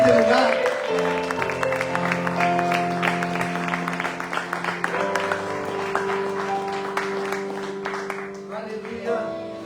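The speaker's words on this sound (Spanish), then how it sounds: "Le dan un gran aplauso al Señor" Church audience applauding during a sermon, a steady wash of clapping over sustained organ or keyboard chords, with sharper individual claps standing out as it thins toward the end.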